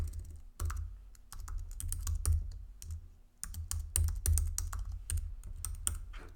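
Rapid bursts of key clicks from someone typing an email address and password on a computer keyboard, close and fairly quiet, with short pauses between runs of keystrokes.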